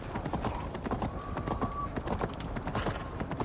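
Horse hooves clip-clopping at a steady trotting rhythm through a large town in Assassin's Creed Valhalla, close and continuous over faint background ambience.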